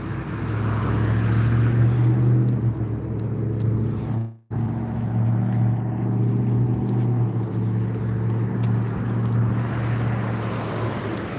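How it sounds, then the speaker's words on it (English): A car's loud motor drones steadily up close, a low rumbling hum that briefly cuts out once before resuming at the same level. "My motor's so loud."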